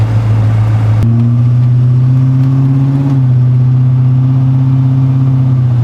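A car engine under turbo boost revs hard and loud, holding a steady roar that jumps in pitch after a second and climbs briefly before settling, with no voices.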